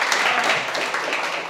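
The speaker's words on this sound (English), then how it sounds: "Come on, give me a round of applause." Applause from a civic hackathon audience at a hurricane resiliency and response panel in Savannah, a short steady wash of many hands clapping at moderate volume with no talking over it.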